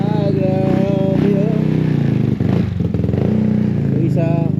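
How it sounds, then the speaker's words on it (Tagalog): Several motorcycles idling and revving close by on a blocked, muddy road, steady engine rumble with brief throttle bursts under people talking. "Maraming motor dito guys nakaharang"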